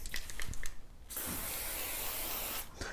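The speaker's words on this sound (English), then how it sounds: "So I just spray this on and just wipe it on with a rag" Silicone lubricant sprays from an aerosol can onto a cast iron table saw top in one steady hiss of about a second and a half, framed by faint handling and shuffling noises.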